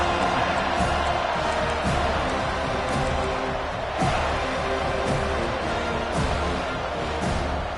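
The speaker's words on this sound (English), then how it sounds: "This crowd bringing an ear-splitting welcome to their visitors." A college football stadium crowd at a Florida versus Florida State game roars in a dense, continuous wash of cheering with swelling bursts, loud and sustained throughout.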